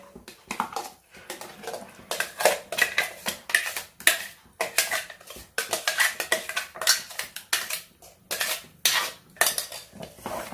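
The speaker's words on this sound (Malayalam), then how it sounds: "അതിലേക്ക് അരച്ച് വെച്ചിരിക്കുന്ന നെല്ലിക്ക ചേർക്കാം." A spoon scrapes and knocks around a pan as ground gooseberry is stirred into a thick lehyam mixture over high flame, steady rhythmic clatter close up with no talking.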